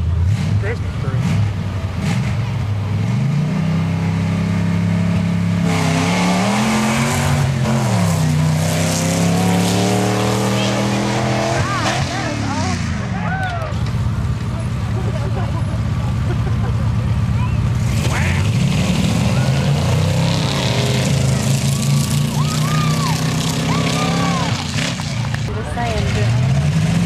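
Chevy and Ford mud trucks drag racing on a Georgia mud track roar loudly for the whole stretch, engines revving and shifting up and down in pitch, with crowd chatter and commentary mixed in.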